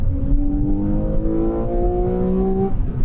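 A Porsche 911 Carrera 4S engine revs up steadily, its rising whine climbing in pitch over a continuous rumble of road and wind noise.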